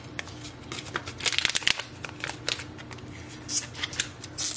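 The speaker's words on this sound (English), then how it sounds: "Now take the ink cartridges out of the plastic packaging." Crinkly rustling and sharp plastic crackles come from Epson ink cartridges being pulled out of their plastic packaging during printer setup, close up, in irregular bursts with no talking.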